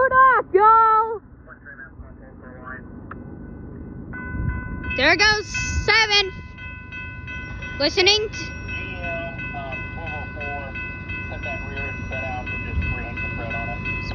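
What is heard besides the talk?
military freight train passing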